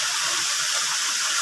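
River or waterfall water rushes in a steady, close, dense hiss, loud and unbroken throughout.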